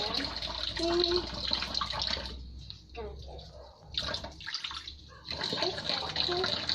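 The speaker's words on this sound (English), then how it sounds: "Pour the water." Tap water pours and splashes while a child washes dishes at home, a steady rushing stream that drops away briefly and resumes, with a voice talking over it.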